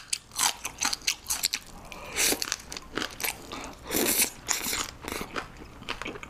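Crunchy kimchi is bitten and chewed up close, with a quick series of sharp, crisp crunches in an uneven rhythm and quiet pauses between bites, and no talking.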